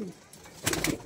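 Two Nafta pigeons, an old Kaldom/Madrasi bloodline, coo together in a loft, a brief close burst of soft throaty cooing after a quiet start.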